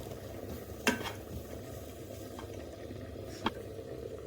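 Dry ginger powder and pepper powder being stirred into a frying mix for kadak idly, a quiet low sizzle with two distinct spoon scrapes against the pan, and no speech.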